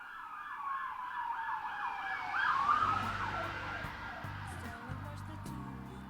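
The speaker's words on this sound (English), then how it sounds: "Police sirens." Wailing police sirens sweep up and down at moderate distance over a low vehicle rumble, rising to a peak midway and then fading as the wail gives way to engine noise.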